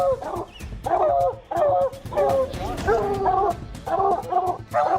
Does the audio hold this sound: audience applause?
no